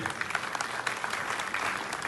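A crowd at a BJP felicitation ceremony in Surendranagar claps steadily to welcome district party president Bipin Dada, giving a dense, even patter of many hands without a break.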